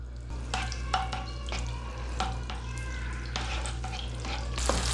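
Tomato paste sautés in oil and butter, a steady close sizzle with scattered scraping and clinking strokes as it is stirred in the pan, and no talk.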